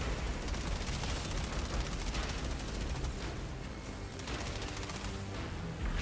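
Sustained automatic gunfire from the Charred Lance weapon in the video game Outriders, a dense, continuous stream of rapid shots with heavy layered impacts, loud throughout the whole stretch.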